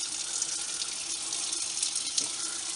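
Warm water gushes steadily from a faucet into a kitchen double sink as it fills for washing dishes with Dawn dish soap, a continuous bright hiss and splash heard alone at moderate volume.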